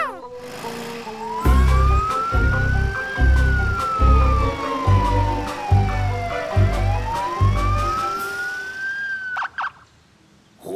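A cartoon police car siren wails loudly up and down over a bouncy musical beat, then cuts off abruptly near the end.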